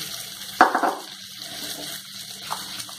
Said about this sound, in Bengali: এই জারের মধ্যে আমি একটু জল দিচ্ছি।